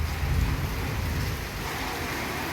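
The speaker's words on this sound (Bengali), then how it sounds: "আর এই পনেরো কুড়ি মিনিট ধরে মুষলধারে বৃষ্টি হচ্ছে" Heavy monsoon-style downpour of rain, a steady dense broadband hiss of drops with a low rumbling undertone, continuous and fairly close throughout with no voices.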